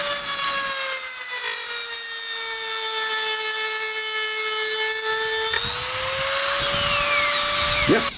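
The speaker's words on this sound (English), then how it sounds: "I'm pretty sure you can use the same diamond cutting disc on wood, so we'll have a quick go at this" A DEPSTECH DM-200A rotary tool fitted with a diamond cutting disc cuts into wood, a loud, steady high-pitched whine that shifts in pitch partway through, heard up close with no talking.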